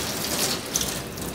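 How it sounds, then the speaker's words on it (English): Steady running tap water splashing over a metal intaglio printing plate being rinsed of acid, a continuous hiss with faint metallic clinks, with no talking. "So we always want to rinse it with water in between steps."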